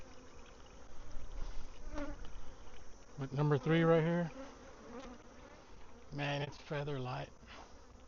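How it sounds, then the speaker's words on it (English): Bees buzz steadily around a hive during an inspection and 1-to-1 syrup feeding, a low continuous hum running throughout while someone talks in short bursts over it. "Bees do seem like they're bringing in some nectar."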